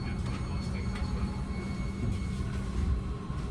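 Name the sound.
Caltrain northbound limited train 425 riding interior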